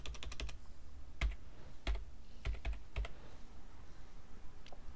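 Clicky computer keyboard keystrokes come in short bursts, a quick flurry at the start and then scattered single taps, close up with no talk over a quiet background hum.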